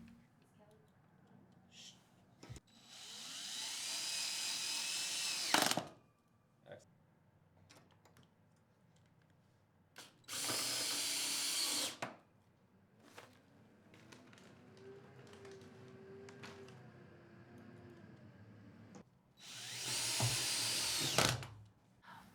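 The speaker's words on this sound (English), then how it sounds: "When using your power drill to attach the frame rails and stiffeners, be careful not to strip or over-torque the screws." Power drill driving screws into the rails of a horizontal Murphy bed frame, three loud whirring bursts of a few seconds each separated by quiet pauses with light clicks and handling noise.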